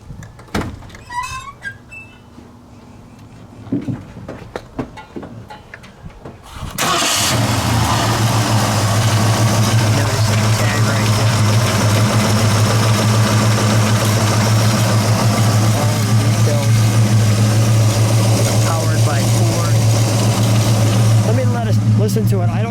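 A 1969 Mercury Cyclone Spoiler with a 351 V8 cranks and catches about seven seconds in, then settles into a loud, steady idle. Voices speak over the engine near the start.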